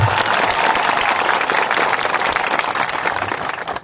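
A crowd at a village gathering in Gujarat applauds to welcome a guest with loud, dense, sustained clapping that fades slightly toward the end.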